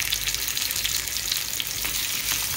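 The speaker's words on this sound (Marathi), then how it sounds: "कारण मासा मला पूर्ण बाजूने भाजला गेला पाहिजे चांगला" Fish frying in a pan, a bright crackling sizzle that runs steadily throughout with faint bubbling, heard up close with no one speaking.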